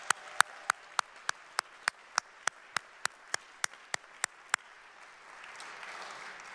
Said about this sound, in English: would you please give a round of applause for Vanessa?